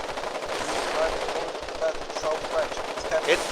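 Heavy gunfire from a video game, rapid bursts of automatic fire crackling continuously with a few sharp cracks, faint voices underneath.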